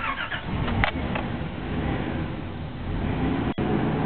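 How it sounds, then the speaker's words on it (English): A warm car engine cranking and catching, a brief starter burst followed by a steady running idle hum, loud and close throughout, with a sharp click near the end; the car is fitted with an HHO resonant field alternator setup. "Let's just start the car up."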